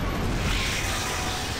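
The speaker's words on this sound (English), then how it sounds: "Can't hear you. Too much explosions." Dense, continuous rumbling roar of explosions and blasts in the video game Gears of War 3, loud and sustained without clear gaps.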